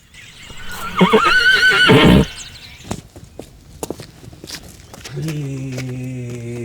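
A horse gives a loud, close whinny lasting about a second, followed by scattered clicks and a lower, drawn-out tonal call near the end.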